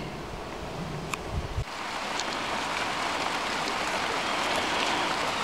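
Heavy rain pours down steadily onto a homestead roof, a dense, even hiss of drops that swells after a brief lull and continues unbroken, with no talk.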